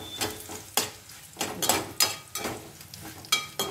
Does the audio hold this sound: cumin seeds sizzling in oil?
yes